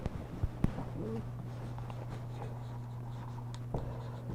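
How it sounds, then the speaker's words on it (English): Pen or marker scratching on a writing surface, soft continuous strokes close by with a couple of sharp taps, over a low steady hum and no talking. "So let me write down what they are."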